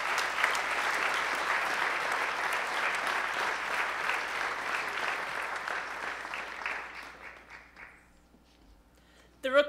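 Warm audience applause at the UNB Pepsi Rookie of the Year Awards, a steady wash of many clapping hands that fades out near the end, followed by a short sound.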